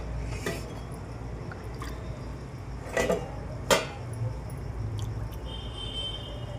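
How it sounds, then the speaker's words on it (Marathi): A metal lid comes off a pan of matar paneer simmering on very low gas, making two brief clanks near the middle, close and moderately loud, over a soft, constant kitchen background. "आता हे झाकण काढून घेऊ आपण"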